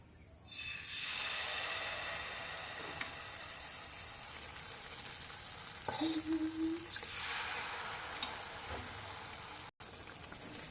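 Malpua batter made from ripe mango, atta and semolina frying in hot oil, a steady close sizzle and crackle running throughout with brief louder bursts of spitting midway.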